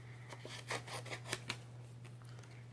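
Scissors snip through paper by hand as a shape is cut out, a quick series of faint, close crisp cuts and rustles over a low steady hum.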